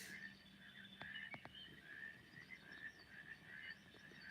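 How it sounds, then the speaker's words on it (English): A dense chorus of frogs croaks continuously at a distance, with a few sharp clicks near the start. "those are frogs that you hear."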